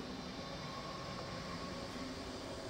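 A train passing in the video game XCOM 2 produces a continuous, steady rumbling roar that stays even in loudness throughout, heard alone without any talking.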